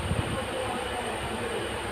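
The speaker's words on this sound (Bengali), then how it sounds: "ট্রেন যাত্রা করছি" A passenger train running at night between Kolkata and Kashmir, heard from inside the carriage as a steady, loud rumble of wheels and rails that continues evenly throughout.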